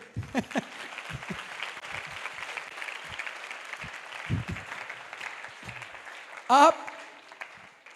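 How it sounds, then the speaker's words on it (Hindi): Scattered clapping from a church congregation comes in uneven bursts, with murmuring voices and one sharp vocal outburst near the end. "ताली बजाएं एक दूसरे के लिए"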